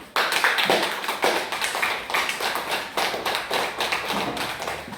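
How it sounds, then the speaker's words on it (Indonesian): A primary school class of children clapping hands together in a classroom, sharp rhythmic group claps repeating in bursts with short gaps, close and fairly loud. "Tepuk tangan dulu semuanya."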